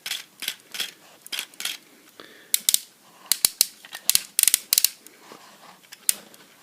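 A Transformers Voyager Class Motormaster toy's ratchet hip joints are worked by hand, giving sharp close plastic clicks in rapid runs and scattered single snaps, with brief pauses between moves.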